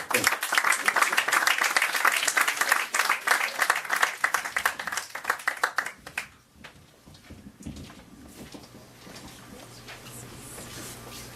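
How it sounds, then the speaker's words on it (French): Warm audience applause at an evening show, dense clapping for about six seconds before it fades out, followed by quiet room noise with faint movement and a little talk. "on applaudit chaleureusement"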